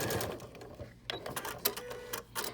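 Home sewing machine back-stitching the seam of a fabric face mask, a close, quiet burst of short mechanical needle clatter with brief pauses between runs.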